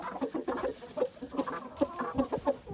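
An Aseel Shamo hen clucks in a quick, uneven run of short, close calls, steady for a few seconds with no other sound over it.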